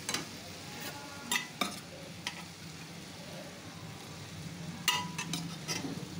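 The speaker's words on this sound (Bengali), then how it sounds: "এবার আমি এর মধ্যে কাবলি ছোলাগুলো দিয়ে দেবো।" Kabuli chickpeas drop into a pan of frying spice masala, giving a few sharp clatters and spoon scrapes over a low, steady sizzle, close and fairly quiet.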